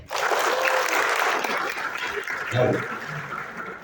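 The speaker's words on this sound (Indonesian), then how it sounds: "Tepuk tangan pada semua." A crowd at a motivational seminar breaking into sustained applause, a steady mass of clapping that eases slightly and swells again near the end.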